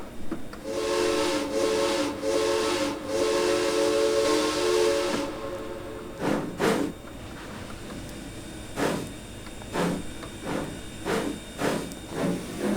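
Steam chuffing from a 2-8-0 locomotive in the Trainz 2019 simulator, opening with a long steady hissing blast, then a run of distinct chuff bursts in an uneven rhythm, loud and close with no talk.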